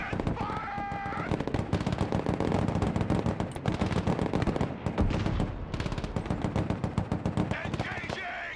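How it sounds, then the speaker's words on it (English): Rapid, dense machine-gun and rifle fire in the Broken Arrow military strategy game, with near-continuous bursts throughout and shouted voices over the shooting. "Rangers at your command, sir! Rock and roll! No fear! Open fire!"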